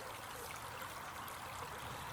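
Water in a small stream flows and splits around a tree standing in the middle of it on an old farm, a steady close rushing trickle with no voices.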